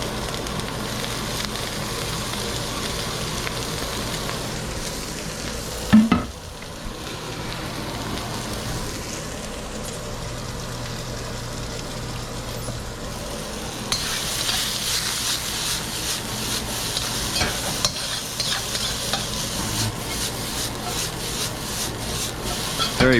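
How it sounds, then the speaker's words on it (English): Blanched green beans and broccoli stir-fry in smoking-hot oil, giving a steady sizzle with the rough scrape of tossing and stirring, and a brief clatter partway through. "Let that smoke. And in with our blanched beans and broccoli."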